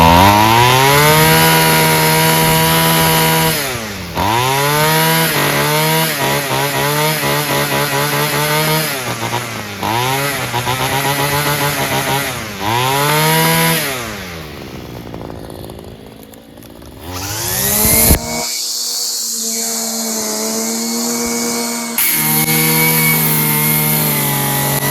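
A Homelite gas weed trimmer engine runs steadily after an idle adjustment, droning close and loud with repeated throttle blips that rise and fall in pitch, then settles into a higher, steadier whine.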